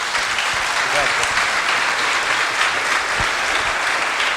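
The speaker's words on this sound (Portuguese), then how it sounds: "Uma salva de palmas para o nosso maestro." An audience claps for the maestro at a Christmas cantata, dense, loud and steady applause that fills the space from start to finish.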